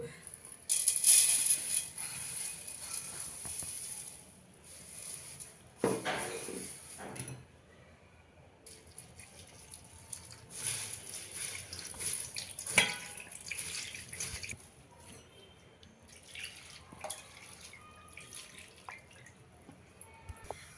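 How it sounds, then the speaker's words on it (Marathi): Sorghum flakes being rinsed in water over a mesh sieve set on an empty pot, giving intermittent splashing, dripping and trickling close by, with quieter gaps between bursts. "ज्वारीचे पोहे आपण धुवून घेऊया इथे मी खाली एक मोकळं भांडं घेतलेलं आहे त्याच्यावर आपण जाळी ठेवू"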